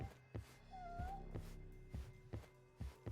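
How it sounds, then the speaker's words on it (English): A cat meows once in a drawn, rising-falling cry amid a run of regular soft thumps, like footsteps, that keep a steady beat throughout. "I hear a kitty."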